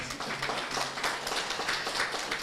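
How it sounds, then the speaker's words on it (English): Audience clapping for the speaker's husband at a gathering, a steady dense patter of many hands that carries on evenly through the moment. "you can give a clap for my dear husband"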